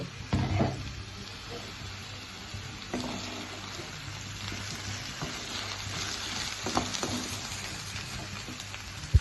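Sliced potatoes sizzle and fry steadily in a pan for aloo fry, with a continuous crackling hiss and a few stirring scrapes, close and fairly loud, alone without talk.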